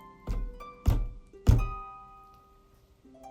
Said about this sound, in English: A knock on her trap door.